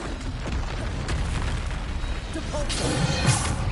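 Bombarda explosion spell cast in the Hogwarts Legacy video game: a loud, dense blast rumbling through a constant wash of combat noise, with a voice talking over it.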